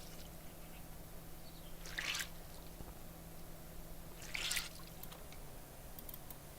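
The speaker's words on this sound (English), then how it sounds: "just gonna go ahead and wring everything out that we can" Wet clothes are wrung out in the DayZ video game, two short squishy splashes of water spaced a few seconds apart over a quiet, faintly humming background.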